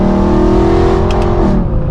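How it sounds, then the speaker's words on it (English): A straight-piped, Gintani-tuned BMW M3 E92 V8 revving loudly up close, a raspy sustained exhaust note that holds and then drops off sharply near the end. "That exhaust note is nothing short of addicting, man."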